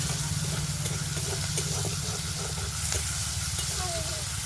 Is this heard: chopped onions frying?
yes